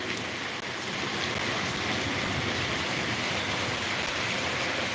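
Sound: heavy rain and flowing water in flooded streets

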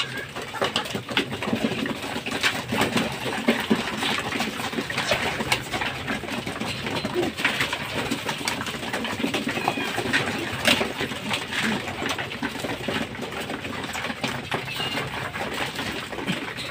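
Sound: pigeons being fed

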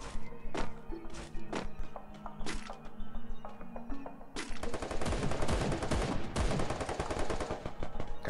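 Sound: gunfire in the video game Free Fire

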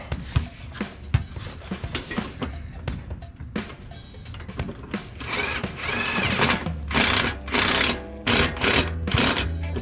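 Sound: impact driver running in a bolt on Ford F150

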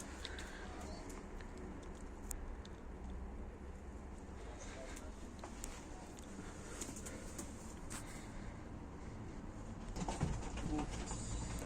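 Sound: pigeons cooing

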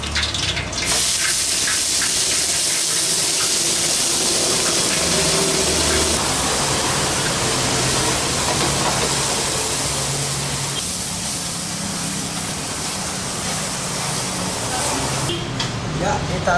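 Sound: spice paste sizzling as it is added to the pan

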